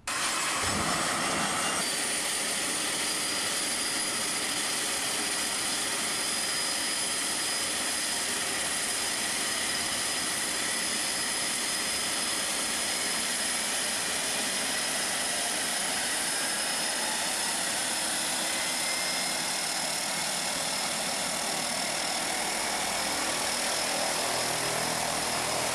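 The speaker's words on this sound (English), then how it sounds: "our pilot climbs in and fires up the turbine engine" The turbine engine of a converted Otter floatplane spools up from start, a loud rising whine and roar that settles into a sustained, steady drone close by for the whole stretch.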